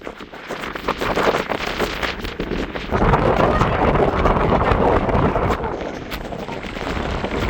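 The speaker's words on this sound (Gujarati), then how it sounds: "વરસાદ આવી ગયો અને મસ્ત પવન ને વરસાદ" Steady wind roaring across the microphone with rain pouring down on a village farm field, growing louder partway through and staying dense to the end.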